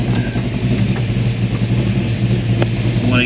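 A 1973 Ford Mach 1 Mustang engine idles steadily and loudly up close, a continuous low rumble with no speech over it.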